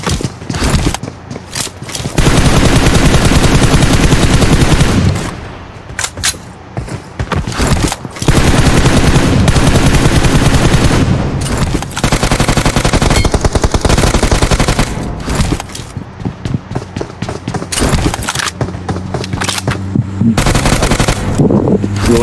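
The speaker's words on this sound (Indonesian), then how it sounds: "Kok ada nembak?" Sustained automatic gunfire in a PUBG Mobile match on the Sanhok map, with dense rapid bursts and brief pauses between volleys, loud and close throughout.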